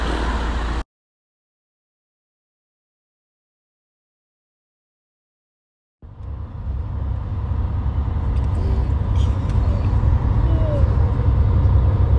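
Inside a moving bus, a steady low engine rumble and road noise drone continuously after a silent gap, with faint rattles and squeaks above the constant hum.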